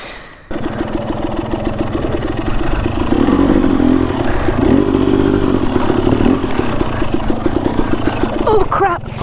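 A motorcycle engine runs loud and close throughout while riding a trail in the woods, a steady rough throb with revving surges in the middle and some clattering.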